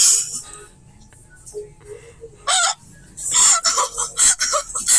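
A person imitates a chicken, with loud bursts of clucking and crowing-like squawks in the second half after a quieter stretch.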